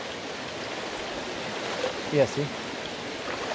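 River water flows steadily around someone walking midstream through vegetation, a constant rushing wash with a brief splashy swell in the middle as someone speaks over it.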